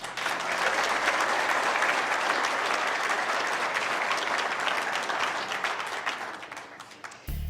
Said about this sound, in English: now we will give them one last round of applause